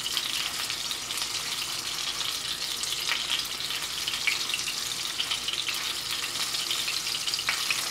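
Food sizzles and fries steadily in a hot pan, a dense, continuous crackle that stays loud and close throughout, with faint clinks and stirring.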